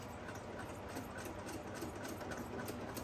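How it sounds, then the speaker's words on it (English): A sewing machine stitching a half-inch side seam on a flat-bottom tote bag gives off a continuous, fairly faint whirring hum at an even pace, with no pauses and no talking. "So I'm gonna do a side seam, again, 1/2 inch, starting and stopping with a locking stitch at the top and the bottom."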